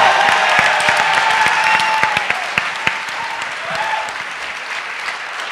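An audience at an entrepreneurship competition applauds a team leaving the stage, thick sustained clapping with a few sharp individual claps and faint crowd murmur, gradually easing off toward the end.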